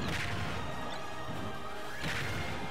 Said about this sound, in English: the smack sound whenever you hit him with his own crown is hilarious